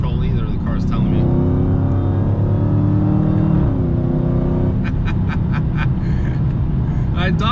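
Dodge Challenger Hellcat in track mode, its engine revving hard and loud with sharp, aggressive gear shifts and a rising whine, while someone speaks over it from inside the car.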